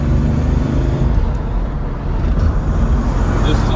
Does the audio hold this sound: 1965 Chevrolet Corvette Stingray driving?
yes